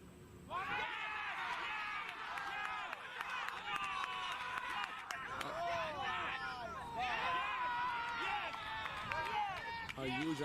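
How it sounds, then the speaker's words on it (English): Cricket players and a crowd shouting together in a loud appeal to the umpire during a match, voices rising in a sustained, echoing roar that swells and fades over several seconds, with scattered clapping. "You could hear all the crowd and everybody appealing from the outside"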